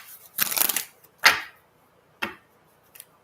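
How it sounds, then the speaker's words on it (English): Tarot cards are shuffled close up in a quick riffling burst, followed by a few separate short card slaps and taps with quiet gaps between. "let me shuffle this"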